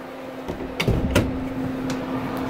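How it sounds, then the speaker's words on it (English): A cargo trailer door swings shut, with a couple of close, sharp knocking thuds over the low, steady hum of an RV furnace running inside. "I'm gonna shut this door."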